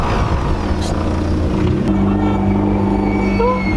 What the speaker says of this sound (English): It's just making this constant whining because it's eating up the fenders.